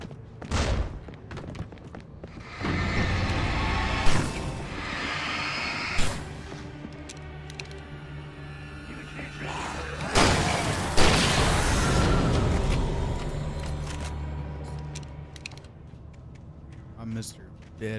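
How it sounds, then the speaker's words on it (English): Several flashbang explosions in the video game Alan Wake Remastered, sharp booming blasts recurring irregularly amid heavy game noise, with a person talking over them at times. "Flashbangs."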